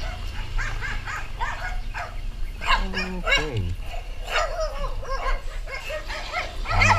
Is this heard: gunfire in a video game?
no